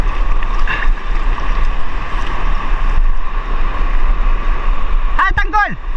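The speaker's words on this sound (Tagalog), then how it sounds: "Malaki ng alon." Big sea waves rolling around a small fishing boat off Anajao Island, a loud continuous rush of water and wind buffeting the microphone, with a brief burst of other noise near the end.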